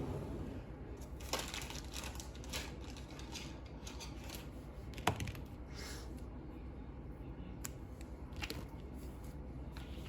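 Knitted yarn loop being cut with scissors, soft close snips and rubbing of yarn over a steady low background hum, with one sharper click midway.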